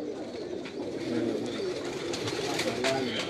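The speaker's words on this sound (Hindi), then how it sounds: "इंडियन गलवे कबूतर हैं उस्ताद मुल्ला के।" Indian pigeons coo repeatedly in soft, throaty rolls close by, with faint background chatter and rustling.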